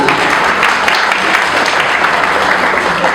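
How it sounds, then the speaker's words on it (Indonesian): An audience at a Christmas celebration event claps steadily and loudly throughout, a dense continuous wash of applause with no pause. "Tepuk tangan semua Bapak"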